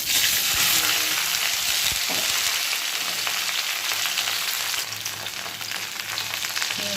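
Sliced okra (bhindi) frying in hot oil with a split dried red chilli and whole cumin, a loud dense crackling sizzle with stirring knocks, steady and close.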